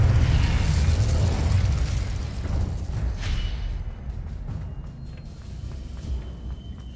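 Incendio fire spell blasting in Hogwarts Legacy: a loud, roaring burst of flame that rumbles heavily at first, then thins into a fading crackle and hiss over several seconds.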